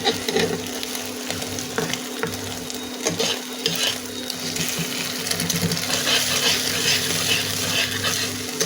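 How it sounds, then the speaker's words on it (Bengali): Chowmein noodles being stirred with onions in a hot pan, a loud continuous sizzle broken by frequent scraping and clinking strokes of the spatula. "আলতো করে নাড়বো একেবারে পেঁয়াজের সাথে চাউটা মিশিয়ে নেব"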